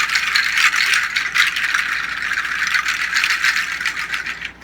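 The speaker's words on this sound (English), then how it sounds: "These are pods. And again, these are not really for keeping a beat, it's more for us to create a certain atmosphere or sound." Dried seed pods used as a Latin American percussion rattle, shaken continuously into a dense, crisp, hissing clatter with soft pulses, close and steady throughout without any talk.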